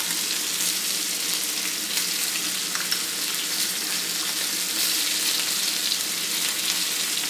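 Steak with garlic sizzling in a newly seasoned cast iron skillet, a dense, even hiss of frying fat that stays steady and close for the whole stretch.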